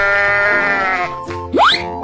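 Loud, close sheep bleat with a wavering, drawn-out call over light background music, followed by a short rising boing-like sound effect.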